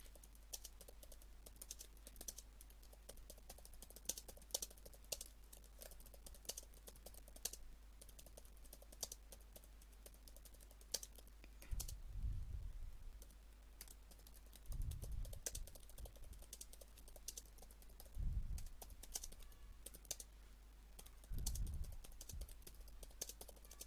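Quiet bursts of typing on a computer keyboard, soft scattered key clicks interrupted by a few louder thumps, heard close up in a still room with no talking.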